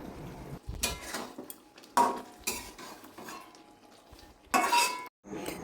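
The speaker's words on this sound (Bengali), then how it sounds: "মশলা দেওয়ার পরে এবার ভালো করে উল্টিয়ে পাল্টিয়ে মশলাটাকে মিশিয়ে নিতে হবে।" Spiced mourala fish curry with green tomato being turned and stirred in a pan, with a spoon scraping and clinking against the metal in several irregular bursts separated by brief pauses, close and fairly quiet, with no speech.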